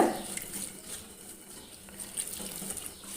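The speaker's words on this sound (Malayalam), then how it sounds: "വെള്ളമൊഴിച്ച് മിക്സ് ചെയ്യാം" Water is poured over chopped vegetables in a pressure cooker for a curry, making a soft splashing and trickling that is faint and brief.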